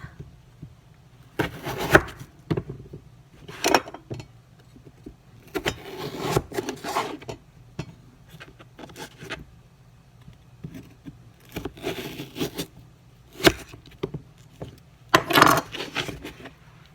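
A dull knife cuts potatoes into wedges on a cutting board, giving repeated bursts of scraping, crunching strokes with short pauses between them, close and moderately loud.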